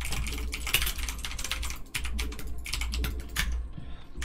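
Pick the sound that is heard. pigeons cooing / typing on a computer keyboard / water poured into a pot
typing on a computer keyboard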